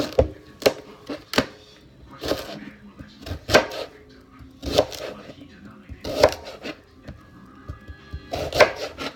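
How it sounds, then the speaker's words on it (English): Steady knife chopping on a cutting board, sharp repeated thuds in an uneven rhythm, close and clear, with a person talking between the cuts. "And then I'm just going to start chopping."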